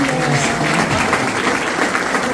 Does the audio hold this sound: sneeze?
no